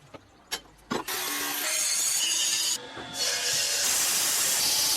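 A block of soapstone for a masonry heater being cut with a power saw, a few sharp knocks first, then a steady loud grinding hiss that runs almost continuously, briefly dipping before resuming.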